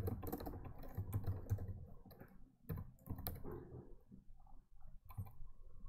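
Code is typed on a computer keyboard in quick, uneven bursts of close clicking keystrokes with brief pauses, fairly quiet and alone without talk.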